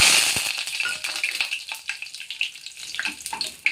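Bay leaves dropped into hot oil, a loud crackling sizzle that starts strong and settles into a steady spitting fry.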